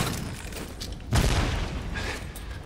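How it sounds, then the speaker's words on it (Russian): An explosion in the video game Shadow Warrior, a single loud, deep boom that bursts out suddenly midway and rumbles briefly before fading into low background noise. "Если даже взрыв не помог"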